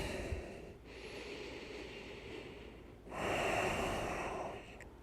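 Long, steady breaths during a dynamic core yoga flow: a deep inhale, then a louder, rushing exhale, close and audible with no talk.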